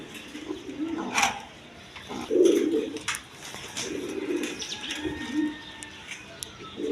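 Pigeons coo in soft, repeated low bursts at close range, with a few sharp chirps and faint wing flutters mixed in and no talking.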